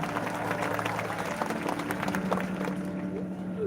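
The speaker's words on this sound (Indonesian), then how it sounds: "Beri tepuk tangan yang meriah buat Tuhan" A church congregation at an open-air revival service claps together, dense applause mixed with a steady droning tone, fading slightly at the end.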